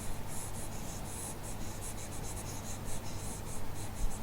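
A pen or marker scratches steadily across a surface during a maths lesson on coordinate geometry, with rhythmic strokes over a low constant hum and no talking.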